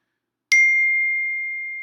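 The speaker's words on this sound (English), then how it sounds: "I just got a text message." A single bright phone notification ding for an incoming text message, a sharp strike that rings on as one steady tone and slowly fades over more than a second, alone against silence.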